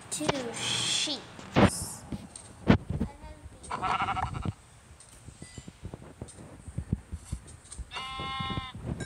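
Sheep bleat in bursts with harmonic cries in Minecraft, mixed with game sound effects and clicks, while people talk over them.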